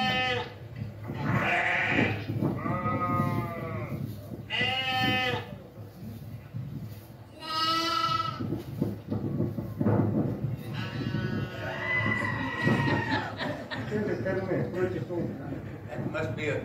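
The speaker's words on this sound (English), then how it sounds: "That must be a goat." A goat bleats repeatedly from a played recording, wavering, nasal cries heard as several separate calls with short pauses between them, fairly clear and close.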